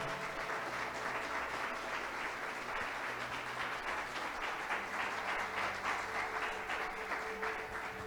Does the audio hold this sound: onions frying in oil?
no